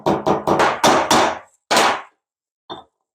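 A hammer tapping a bike wheel part during wheel and tire assembly: five or six quick, loud metallic strikes in a row, a pause, one more firm hit, then a lighter final tap, close and alone.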